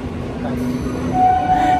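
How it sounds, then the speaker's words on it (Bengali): Rumbling train noise at Kanchrapara railway station, with a sustained high whistle or squeal rising toward the end over a low mechanical drone. "তো এখন কাঁচরাপাড়া স্টেশন"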